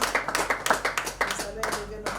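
A church congregation claps in a quick, uneven rhythm to acclaim the Lord during a prayer service, sharp close claps repeating over about two seconds with some voices mixed in.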